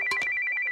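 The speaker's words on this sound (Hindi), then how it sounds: "ये फोन तेरी निशा का ही होगा।" A short electronic phone ringtone, bright and close, a repeating warbling tone lasting under a second.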